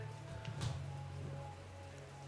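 Steady rain falls in the video game Yakuza 0, a continuous soft patter under a low ambient hum, with a brief louder splash partway through.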